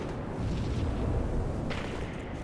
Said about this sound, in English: I nade DecipheeR for Spree